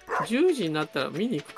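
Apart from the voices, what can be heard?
dog barking in the video game Stardew Valley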